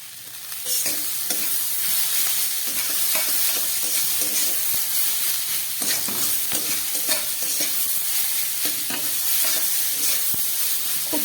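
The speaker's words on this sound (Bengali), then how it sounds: "ভালো করে কষিয়ে নিই।" Masala with crushed cashews and raisins sautéing in a pan, a steady, close sizzle under frequent scraping and clattering stirring strokes that repeat at an uneven rhythm.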